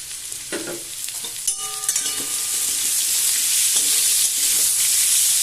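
Green peas and potatoes fry in a hot pan, the bright sizzle swelling louder and steadier after a few clanks of a spoon and some stirring near the start, with nobody speaking.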